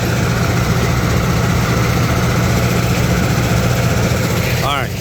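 A rock crusher running at full power, crushing rock for driveway material: a loud, steady, heavy mechanical roar with a dense low rumble that continues throughout, near and unbroken.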